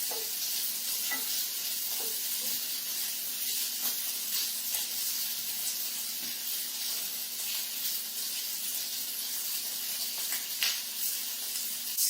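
Shrimp frying in a pan, a steady close sizzle and hiss with occasional soft clicks and pops as pieces are stirred and flipped, continuous and alone.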